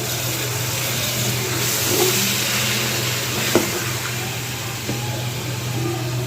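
Coarse minced meat for keema biryani goes into hot oil in a pan, raising a steady, loud sizzle with a low hum beneath and a few brief clinks of utensils.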